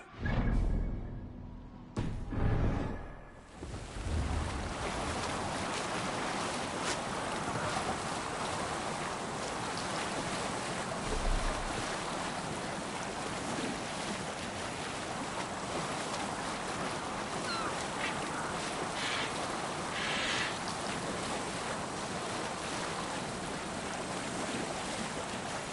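A Viking longship sails the open sea in Assassin's Creed Valhalla, with steady broadband rush of wind and waves for the whole stretch after a few brief louder knocks at the start.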